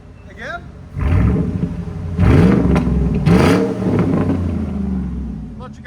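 A 2014 Ford Raptor 6.2L V8 fitted with a Carven TR-Series exhaust and a resonator barks through a few loud, rising revs before falling back to a rumbling idle, with brief voices at the start.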